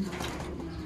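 A small bird, likely a pigeon or dove, gives a soft continuous coo at close range, alone without talk for under a second.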